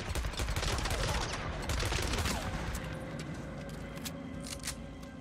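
Sniper rifle gunfire in Days Gone fills the scene: a dense, continuous barrage of sharp cracks that is loud at first and eases slightly toward the end.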